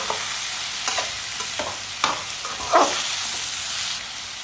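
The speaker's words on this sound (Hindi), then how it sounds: "1 मिनट के लिए पका लेंगे टमाटर और सब्ज मिर्च को" Tomatoes and green chillies frying in a pan, a close, steady bright sizzle with several soft stirring scrapes and spatula taps spaced through it, no voices.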